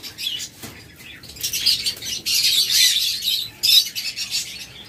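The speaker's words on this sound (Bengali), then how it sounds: "আমাদের কাছে রয়েছে ভায়োলেট অপালাইন নিউডাল পাখি" A pair of violet opaline budgerigars kept as pet birds chirps in bursts of bright, busy twittering, close by and fairly loud, with short pauses between flurries.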